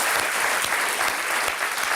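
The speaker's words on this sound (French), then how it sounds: "Donc je vous demande d'applaudir" Dense audience applause at a live comedy show, continuous and loud clapping from a full room with no break.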